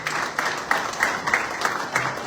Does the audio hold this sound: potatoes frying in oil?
no